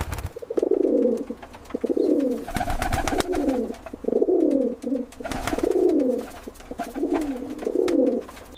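Young rock pigeon chicks at a breeding farm give repeated low, throaty cooing calls in a steady series, close and clear, with some faint rustling and flapping in the background.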